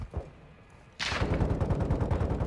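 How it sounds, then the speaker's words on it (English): Rapid automatic gunfire in the video game Modern Warfare 2 bursts in after a quieter moment, a loud, sustained string of shots with a sharp attack that continues to the end. "Bro, who is shooting?"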